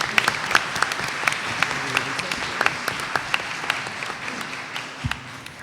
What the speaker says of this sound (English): So please join me in a round of applause for Karen Armano.